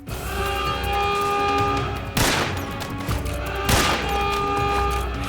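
Gunfire in Metal Gear Solid 3: Snake Eater, two loud sharp shots about a second and a half apart, each cutting over a steady, dense game backdrop of music and ambience.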